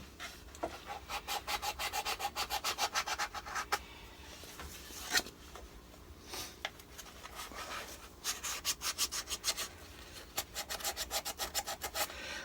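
Wooden yarn bowl being sanded by hand with Rhino Grip sandpaper, close rhythmic back-and-forth scratchy strokes in fast runs, broken by short pauses and a few knocks.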